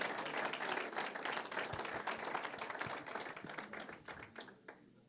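A church congregation at a gathering of priests gives steady, dense applause, a fairly faint, continuous patter of many hands that gradually thins toward the end.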